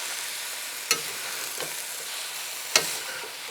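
Beef and broccoli frying in sauce in a pan, with a steady background sizzle broken by two or three sharp clatters as the food is stirred and flipped, fairly close and with no talking.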